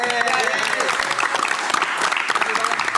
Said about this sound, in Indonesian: Sekarang kita tepuk tangan lah.